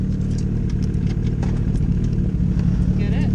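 A turbocharged Suzuki Hayabusa motorcycle engine runs loud and close with a steady low rumble, while people talk over it throughout.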